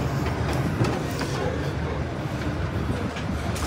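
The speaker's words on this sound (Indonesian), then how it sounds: "ini keretanya ditarik mundur" The Sritanjung passenger train is pulled backward, giving a steady low rumble of rolling rail cars with faint clicking, heard from on board at moderate loudness with no talking.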